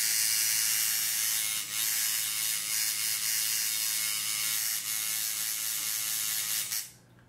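A coil tattoo machine running with cartridge needles at lower voltage, a steady close buzzing hum with a fine rapid rattle that holds evenly before cutting off abruptly near the end.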